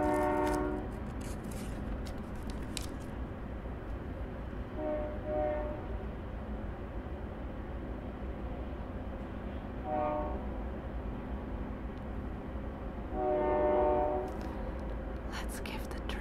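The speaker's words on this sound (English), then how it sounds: "Let's give the train a moment" A train passes nearby and sounds its horn in several separate blasts, each a bright tonal burst, over a continuous low rumble of rolling wagons that lasts the whole stretch, with no talking.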